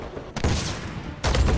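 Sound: gunfire from the video game Uncharted 4 multiplayer

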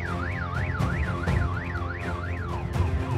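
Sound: car alarms sounding

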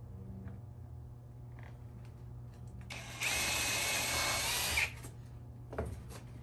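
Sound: power drill drilling hole in wood

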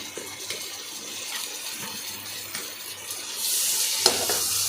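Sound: frying tomatoes with onions in a pan

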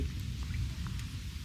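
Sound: light rain drizzling

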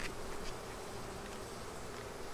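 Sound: honeybees buzzing loudly in hive

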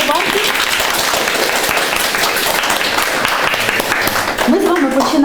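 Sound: audience applauding after memorandum signing

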